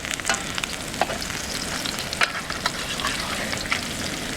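Fish fries in a pan without cooking oil, a steady close sizzle with small pops and crackles throughout and no talking.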